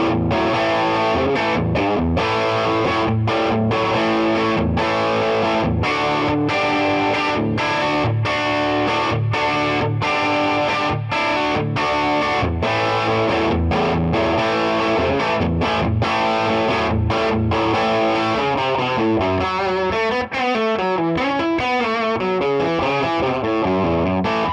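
Distorted electric guitar through the lead channel of a Two Rock Bloomfield Drive amp plays a sustained lead line with chords and bends, loud and continuous, with a touch of reverb, no voices.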